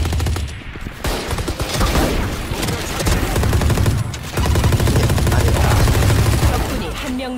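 Rapid bursts of gunfire from the video game Valorant, loud and dense, firing almost continuously throughout with brief gaps.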